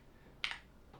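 YUNZII AL80 mechanical keyboard keys pressed close to the microphone, giving two crisp clicky keystrokes about half a second apart in a quiet room.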